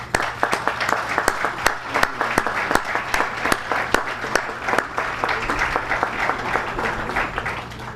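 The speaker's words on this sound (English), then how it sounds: "Please applaud Inspector Monluis" Audience applause at a security services awards ceremony in St. Lucia: a room full of people clapping steadily for several seconds, with sharp individual claps standing out from the crowd.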